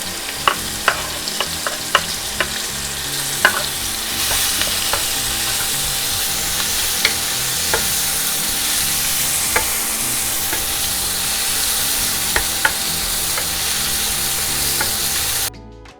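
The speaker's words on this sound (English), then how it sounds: "I'm gonna add in the onions." Onions fry in butter in a pan with a loud, steady sizzle that runs unbroken, scattered with sharp taps and scrapes of a utensil, then stops abruptly at the end.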